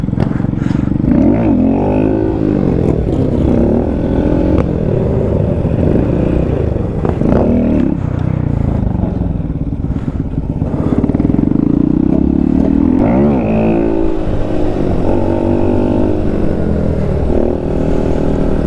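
A Yamaha R1 sport motorcycle with a holed exhaust revs loudly and continuously for a wheelie attempt, its engine note rising and falling in several surges, close by and steady throughout with wind and road noise.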